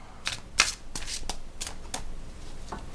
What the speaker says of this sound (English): So, how does it shuffle?